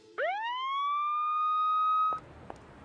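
A person vocally imitates a police siren, a single rising wail that swells and then holds a steady high tone for about two seconds before cutting off, followed by faint background noise.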